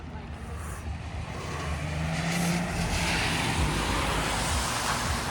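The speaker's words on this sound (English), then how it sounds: "there's a lot of cars here. It's a little loud" A continuous roar of nearby road traffic, cars rushing past with a broad, wind-like rumble that swells slightly midway.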